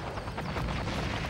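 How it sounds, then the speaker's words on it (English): A TAC nuclear bomb detonates in the PS1 game Black Dawn, giving a loud, sustained rumbling blast that fills the whole moment with dense, roaring low-end noise and no voices. "Let's use this nuclear bomb. A TAC."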